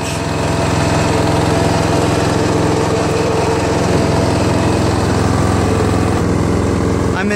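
A Toro Wheelhorse 1238XL lawn tractor with a Briggs flathead engine runs at a steady, loud drone close by, continuous throughout without pause.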